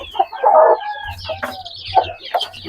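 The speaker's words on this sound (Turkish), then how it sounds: "Burada bir grup civciv var." Chickens clucking and squawking up close with a group of chicks, several short bursts of fowl calls with some faint higher peeps mixed in.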